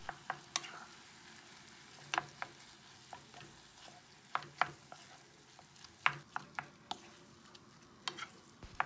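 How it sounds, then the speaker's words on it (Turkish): Mashed potatoes and tomato paste are stirred in a pan, giving a faint, soft sizzle broken by irregular light scrapes and taps of a utensil, recorded quietly and up close. "2-3 dakikada patateslerle kavuralım."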